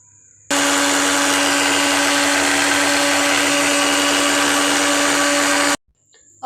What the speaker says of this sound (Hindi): अब इन सबको अच्छे से मैं जो ब्लेंडर है उसमें ब्लेंड कर लूँगी।